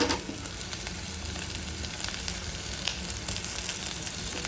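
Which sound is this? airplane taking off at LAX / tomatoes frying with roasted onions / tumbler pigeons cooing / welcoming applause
tomatoes frying with roasted onions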